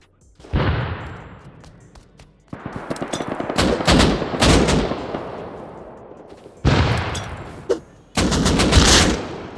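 An AK rifle in Rust Console fires several loud, close bursts of rapid automatic gunfire, separated by short pauses.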